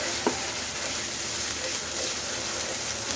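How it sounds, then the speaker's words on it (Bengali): Beef spleen sizzling and frying in a pan with ginger garlic paste, a steady dense crackle throughout with a brief stirring scrape near the start, close and fairly loud. "এটা একটু ভালো করে ভেজে নিই।"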